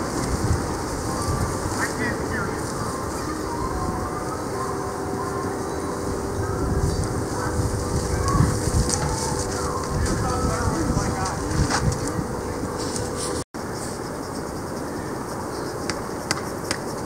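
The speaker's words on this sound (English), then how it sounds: "Sure is windy out." Strong wind blows steadily through an outdoor garden in Wisconsin, a broad continuous rushing roar with gusty swells throughout, close and loud, with no one talking.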